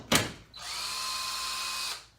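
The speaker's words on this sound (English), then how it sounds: "This drill is like 5 years old, 6 years old, so I do recommend DeWalt" A five- or six-year-old DeWalt cordless drill, used while rebuilding a saw table, gives a short knock and then spins up into a steady, high whine for about a second and a half. It is close, with no one talking over it.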